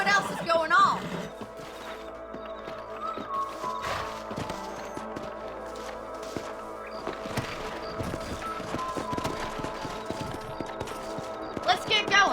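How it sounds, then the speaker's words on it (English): Hooves clip-clop at a steady trotting rhythm with scattered clatter and knocks in Red Dead Redemption on Xbox 360, with no talking. "Let's get back on the horses and see what else is going on."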